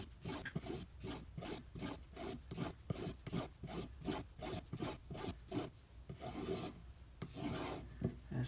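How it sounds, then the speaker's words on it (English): A knife blade is drawn back and forth across a leather strop cleaned of metal polish, making a quick, even series of dry rasping strokes, close and fairly quiet, with no talking. "going to do 10 passes on a strop"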